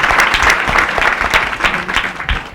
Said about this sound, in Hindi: हाँ वाह, तालियां बजाओ मेरे बच्चे को।